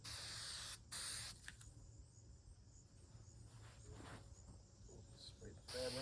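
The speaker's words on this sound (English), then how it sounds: "spray the fabric." Spray adhesive hisses onto seat fabric while a 1967 Plymouth Barracuda bucket seat is reupholstered, in two short, loud bursts, one early and one at the end, with quieter handling noise between.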